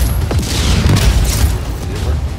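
A rocket blast tears through a mine in the video game Just Cause 4, a loud, dense booming rumble with crackling debris that rolls on continuously without pause.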